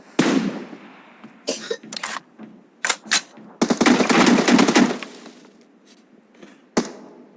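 Gunfire in a team deathmatch shooter game comes as several sharp bursts and rapid volleys, loud and close, separated by quiet gaps, with a single shot near the end.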